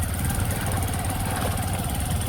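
A motorbike engine runs steadily up close, a continuous low rumble with even throb throughout and no voices.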